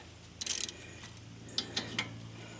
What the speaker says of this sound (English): So now it's time to take the caliper off. This is where your 14mm socket and ratchet, or wrench really.